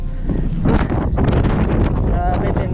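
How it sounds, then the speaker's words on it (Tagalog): Strong wind buffets the microphone during a steep uphill mountain hike on Mt. Shamanseer (Baboon Peak), a constant loud broadband roar with gusty swells filling the whole clip. "Tutulak ka pa ng hangin pababa."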